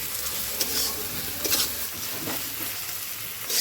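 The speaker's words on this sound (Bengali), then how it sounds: "মাছটা কষে নিচ্ছি" Fish pieces fry in hot oil with turmeric, chili and cumin powder while being stirred, making a steady close sizzle with scraping strokes throughout and no talking.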